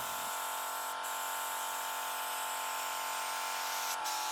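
A steady, hissing spray runs continuously at close range over rusty car metal, broad and loud, with only brief interruptions near the start and end.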